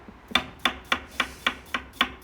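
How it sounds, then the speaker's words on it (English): A knife slices peeled potatoes thinly, about 3 mm, on a new chopping board for potato dauphinois, giving seven close, evenly spaced crisp chops in a steady rhythm with no talk. "So they've just peeled potatoes, and we're just going to slice them relatively thinly."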